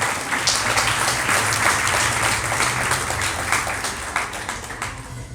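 A sermon audience bursts into sustained applause, dense and steady clapping from many hands filling the hall evenly from start to finish.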